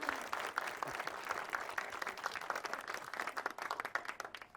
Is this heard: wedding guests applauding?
yes